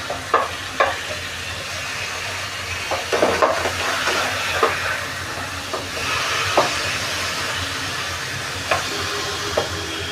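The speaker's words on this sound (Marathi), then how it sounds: "फिरून घेऊया." Tandoori chicken sizzles steadily in a pan of hot oil over a high flame, with a spoon scraping and stirring through it in repeated bursts over a continuous frying hiss.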